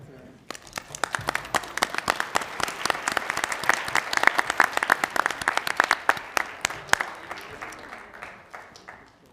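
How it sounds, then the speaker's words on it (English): Small group at a board of directors meeting gives a round of applause, distinct individual claps building quickly and holding steady in a room, then thinning out toward the end; a voice is faintly present beneath. "Give a round of applause."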